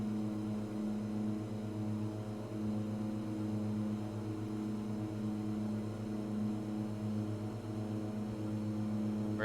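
Inside the cockpit of an Alaskan air cargo plane climbing after takeoff in rain, a steady, loud engine drone with a strong low hum and even tonal layers holds constant throughout.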